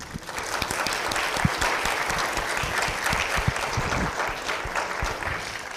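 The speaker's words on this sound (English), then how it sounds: "Please give those sisters a big round of applause." A convocation audience applauds steadily with dense, sustained clapping, loud and even throughout with no voices standing out.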